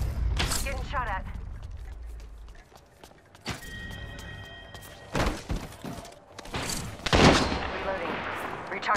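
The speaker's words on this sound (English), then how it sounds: "Getting shot at." Gunfire in Apex Legends, scattered shots and impact thuds rising in bursts toward the end, fairly close, with game effects and a voice talking in between.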